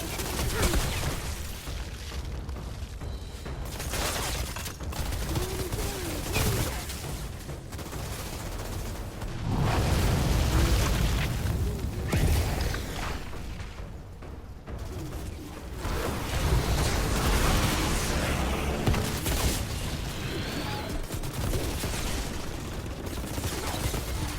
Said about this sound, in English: There's those grenades that force you to relocate.